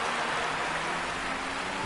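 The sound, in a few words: rain in the video game F1 2020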